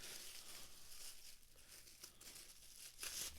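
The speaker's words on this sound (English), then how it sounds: "plastic bags" A plastic bag crinkles and rustles during a Canon SL2 DSLR kit unboxing, soft, close handling noise in irregular bursts over a quiet room, with a sharper crackle near the end.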